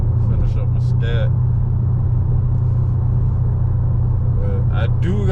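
Dodge Charger R/T V8 with a muffler delete idles in a deep, steady rumble close by, with brief voices heard over the low exhaust drone.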